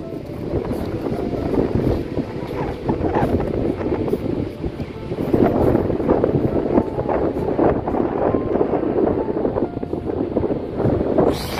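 Strong cold wind blowing across the beach at Saint Martin at sunset, a loud steady roar buffeting the microphone with a faint wash of surf underneath and no voices.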